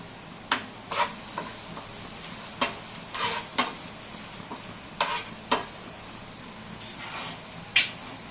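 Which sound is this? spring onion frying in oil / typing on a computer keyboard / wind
spring onion frying in oil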